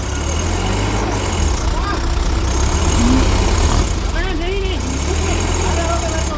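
Two tractors, a Swaraj and a Mahindra, have their engines running while stuck in mud. The steady, loud, low diesel rumble carries throughout, with voices calling out over it.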